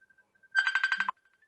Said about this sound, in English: Oh, something's ringing.